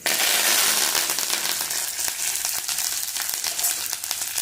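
Loud, continuous sizzling and crackling of mustard seeds, urad dal, dried red chillies and curry leaves frying in hot oil, with sharp little pops scattered throughout.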